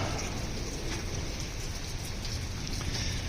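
Steady rain pattering on a rainy evening, a dense, even hiss of drops that continues without pause and without talking, moderately loud.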